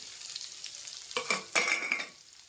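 Onion goes into hot oil with curry leaves and cumin seeds, giving a faint background sizzle that bursts into two loud crackling hisses, then fades to a quiet fry; no talk.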